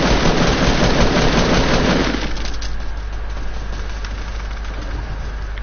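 Video game gunfire, a dense loud burst of rapid automatic shots for about two seconds, then a thinner stream of quieter shots and rumble continuing to the end, no voices.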